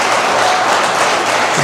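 A room gives its volunteers a round of applause, a loud, even roar of many hands clapping close by and held steady throughout, with no speech over it.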